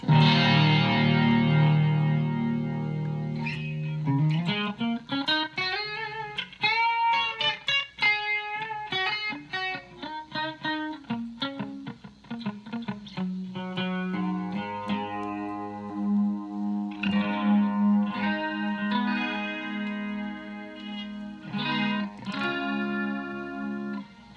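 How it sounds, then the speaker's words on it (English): Electric guitar played through a Blackstar Core ID 40 amp with a phaser/chorus effect, with sustained chords and single-note runs swirling in a steady, close sound with a slight edge of distortion and no voices. "It's a phaser. It's got to be a phaser. This is some sort of chorus."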